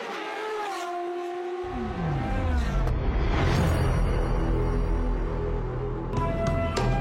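Saleen S7R race cars at Spa-Francorchamps, loud engine roars building and sweeping past with rising and falling pitch, one car after another at close range, with no talking.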